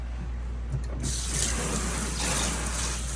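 Water runs steadily from a tap while a leucistic Burmese python is rinsed, a continuous close splashing hiss over a low hum, with the flow strengthening partway through.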